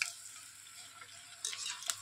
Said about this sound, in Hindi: काफ़ी अच्छे से फ्राई हो रहा है